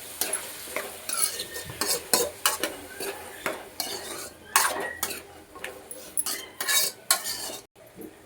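Spoon stirring tomatoes into radish curry frying in a pan, with repeated close scraping and clinking of metal against the pot over a soft sizzle, in irregular bursts.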